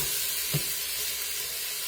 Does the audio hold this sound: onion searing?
yes